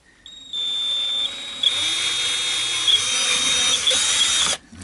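A power drill bores a 3.5 mm hole through the body of a Fender Modern Player Telecaster guitar, one steady whine running about four seconds with a high pitched tone, close and loud, with no voices.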